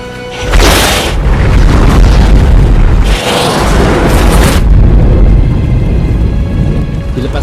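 Missile strikes in a war film set off two heavy, booming explosions, each a loud roaring burst followed by a long rumbling tail, with the blasts separated by a short lull.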